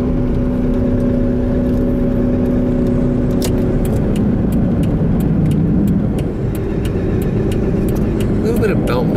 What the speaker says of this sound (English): A little bit of belt noise.